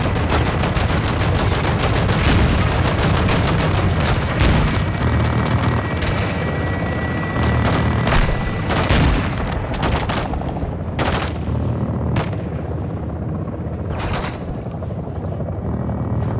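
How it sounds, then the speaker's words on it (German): Call of Duty: Modern Warfare 2 gameplay is packed with gunfire and explosions, dense rapid shots and heavy booming blasts layered over a constant low rumble, loud and close throughout. "Schüsse abgefeuert."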